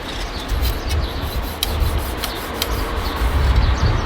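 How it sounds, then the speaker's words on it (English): Scrubbing a garden tool clean with a scrub brush after spraying it with sanitizer, a steady close rubbing and bristle scraping that runs without pause. "We clean with the scrub and be careful not to cut our fingers."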